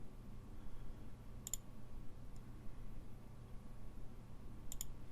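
Two crisp single mouse clicks, spaced a few seconds apart, against a faint computer hum in a quiet room while testing a delete API route.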